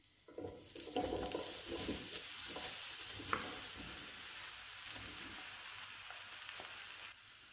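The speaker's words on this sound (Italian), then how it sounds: "E adesso aggiungiamo in padella le melanzane." Eggplant hits a hot pan with garlic and oil, bursting into a loud sizzle that settles into a steady, softer frying hiss with occasional stirring clatter, close by.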